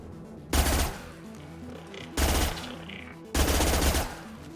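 Three loud bursts of automatic gunfire in the video game Mass Effect 2, each a rapid rattling volley lasting about a second, separated by short quiet gaps.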